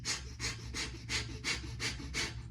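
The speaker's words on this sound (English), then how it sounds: "in the morning you can breathe solely out the right hand side, like maybe like a breath of fire" Breath of fire, rapid forceful breathing through the right nostril, seven rhythmic close breaths in quick succession, no talking.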